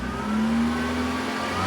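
A car engine revved and held at about 4,000 RPM right after an oil change, a loud, steady mid-pitched drone running the whole short stretch with no talking.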